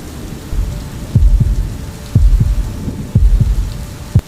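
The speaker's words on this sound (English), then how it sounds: "And outside, the rain continued." Steady rain falls with deep thunder, heavy low rumbles swelling roughly once a second in loud bursts over a constant hiss.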